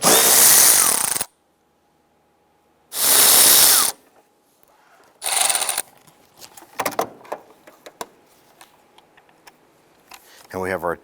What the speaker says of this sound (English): We'll go ahead and loosen and remove this nut here. It's a 7/16.